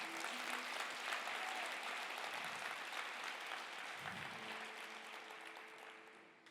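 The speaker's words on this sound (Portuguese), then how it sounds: "Pode aplaudir Jesus, Ele merece." A church congregation applauds at a Sunday service, a dense, steady wash of many hands clapping that fills the room at moderate level and slowly tapers off toward the end.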